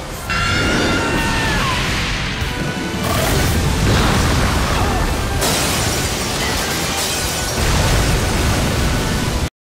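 A massive anime explosion tears apart a building as a loud, dense roar of blast and crumbling debris, rumbling continuously for several seconds before cutting off abruptly.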